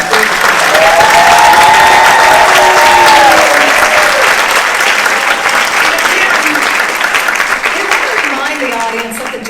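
Loud, sustained applause from a large audience at a senior citizens' talent show, with cheering voices over steady clapping that slowly fades.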